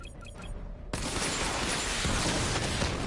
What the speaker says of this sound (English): Barrage level 2 ready.